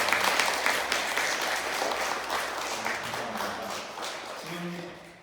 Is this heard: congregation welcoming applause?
yes